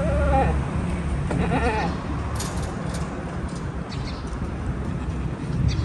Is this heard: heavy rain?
no